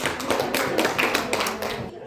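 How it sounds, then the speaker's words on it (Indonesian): Brief applause at a school event in Indonesia, a few scattered hand claps mixed with room noise and a little background chatter, moderately quiet and ending abruptly. "Pak John Heri, kasih tepuk tangan untuk Pak John Heri."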